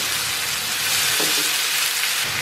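Chopped tomato and bay leaves hitting softened onion in a hot pan, a dense, loud, continuous hiss of frying with a brief burst of sharper sizzle near the middle.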